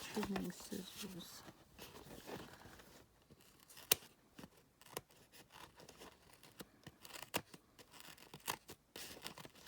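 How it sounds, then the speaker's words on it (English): Quiet snipping and crisp cutting sounds from small scissors, several scattered clicks and rustles, with a voice faintly present underneath. "Guess I'll just use trimming scissors."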